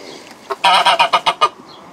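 A series of loud, nasal honking calls from a duck among poultry, about eight rapid squawks in a burst, close by with no talking, in a garden in Anjou, France.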